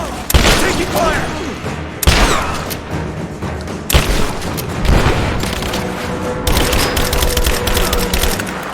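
Heavy gunfire rages in a Rise of the Tomb Raider battle: loud overlapping bursts, sharp cracks and booming impacts come in dense waves throughout, with a rapid rattling volley near the end and no clear talking.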